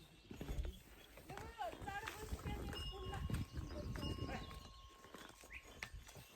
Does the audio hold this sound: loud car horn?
no